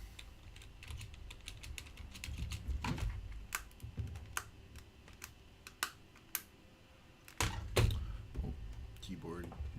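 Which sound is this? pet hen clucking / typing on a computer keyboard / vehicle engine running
typing on a computer keyboard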